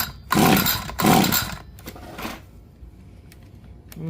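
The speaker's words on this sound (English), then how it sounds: "I'm going to have the throttle ready just to pull it." Two strong rapid pull-start cranks of an ECHO SRM-2620 string trimmer, off choke with the throttle held, rasping loud and close without the engine firing, followed by a few faint clicks and low background noise.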